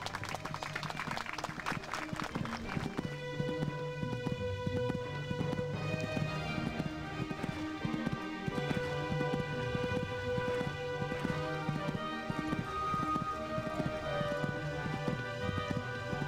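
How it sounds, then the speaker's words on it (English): Horse hooves canter in the video game Horse Olympics, a steady rhythmic clip-clop of footfalls repeating throughout under light game music, the beats even and fairly close. "And a very controlled canter here."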